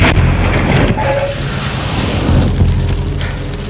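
A fire effect bursts on a creature on the film set of The Thing (2011). It starts as a loud, close whooshing roar of flame and continues as a rumbling, turbulent rush with no clear breaks.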